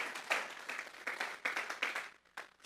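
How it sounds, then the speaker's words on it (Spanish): A church congregation claps together as an offering of praise to God, a dense, uneven burst of many hands with swelling and fading waves of clapping across a few seconds, and no voices over it. "Vamos a darle una ofrenda de palmas a Dios en esta hora."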